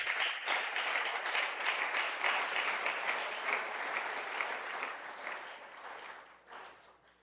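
Church congregation applauding together, a dense sustained clapping that fills the room from a moderate distance, holding steady before tapering off at the end.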